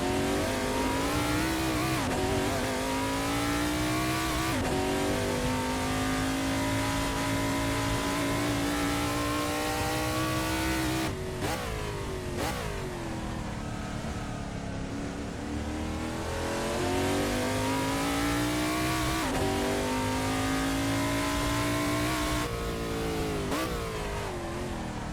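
A Holden VH Commodore race car at full throttle on a fast lap of Morgan Park Raceway, its engine loud and close, rising through the revs, dropping at each gear change and lifting again.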